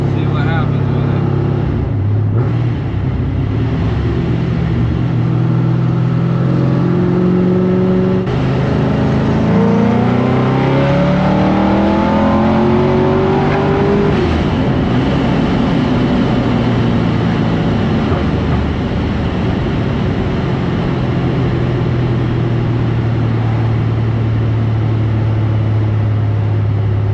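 Supercharged Pontiac GTO with a Pro-Charger accelerating hard in third gear, the engine howl climbing steadily in pitch to high RPM, then dropping and settling into a lower drone, loud and close from inside the car, with a person talking at times.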